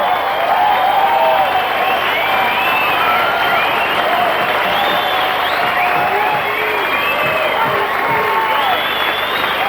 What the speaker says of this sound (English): Mate, I think they deserve a standing applause, mate.